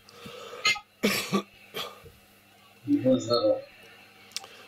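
A few harsh coughs and throat clearing up close, followed by a short burst of speech-like vocal sounds.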